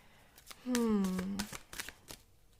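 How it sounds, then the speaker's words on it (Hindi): Tarot cards are shuffled in brief papery riffling bursts, with a voice sounding over part of the shuffling. "Let me pull out some more cards for you."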